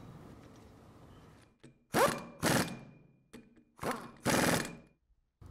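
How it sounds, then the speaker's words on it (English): Bolts go into the pilot piston valve housing of a Kimray glycol pump in a series of sharp, loud mechanical bursts and clanks, grouped in pairs with short gaps between them, close up and with no talk. "Insert the bolts that hold the pilot piston valve housing in place."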